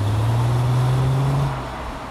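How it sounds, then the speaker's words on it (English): A 2003 Mercedes CLK's V6 engine drones steadily while driving, a low throaty hum holding near-constant pitch before easing off slightly toward the end, with no voices. "Now the V6 on this engine really does make a lovely throaty rasp when you're driving it hard."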